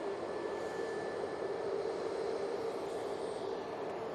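An Aer Lingus airliner arriving from JFK produces a faint, distant, even jet rumble with a thin whine riding above it, steady throughout with no talking.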